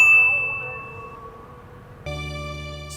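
A bright notification bell dings once and rings out in a fading tone, then a second bell-like chime sounds abruptly and sustains evenly.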